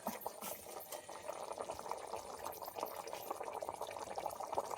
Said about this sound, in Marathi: मंडई बरीच उकळली म्हणजे आवाज पण येतात